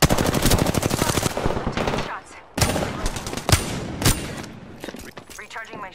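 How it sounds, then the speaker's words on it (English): Rapid automatic gunfire in the Apex Legends video game, dense bursts for the first two seconds followed by sparser single loud shots, with in-game voice lines over the shooting. "Opening fire on the enemy."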